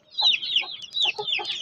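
Baby chickens close by give a few quick bursts of high, sharp peeping chirps.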